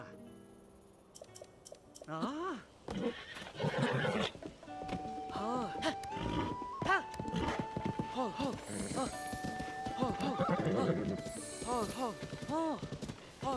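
A horse in Zelda: Tears of the Kingdom whinnies repeatedly over clopping hooves, the neighs rising and falling against a backdrop of game music and someone talking.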